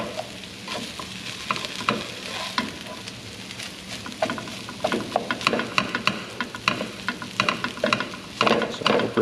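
Rice fries in bacon grease in a pan, sizzling continuously while a utensil stirs and scrapes it in repeated clicks and knocks, close and without talk.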